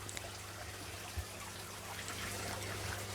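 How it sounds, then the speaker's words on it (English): Small cup of aquarium tank water poured into an open fish bag while breeding gold gourami, a soft continuous trickle and dribble of water close by, quiet and steady with faint background hum. "and I'll just add some of the tank water."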